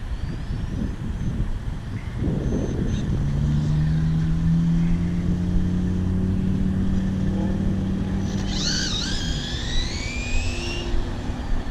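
A Team Associated DR10 drag-racing RC car, a team kit on its first run, whines steadily as its motor spins up and holds speed for several seconds, close and fairly loud, with no talking.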